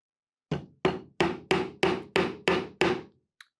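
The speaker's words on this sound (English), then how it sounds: "I can go ahead and begin by tacking in the first nail closest to my dominant hand" A hammer drives a nail into wood with eight sharp, evenly spaced strikes, loud and close, then a faint light tap at the end.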